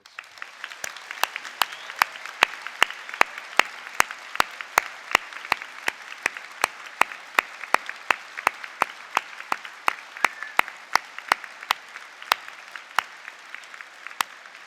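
An audience at an Open University degree ceremony in Harrogate gives graduates a long round of applause, steady crowd clapping punctuated by sharp, evenly spaced loud claps from nearby hands.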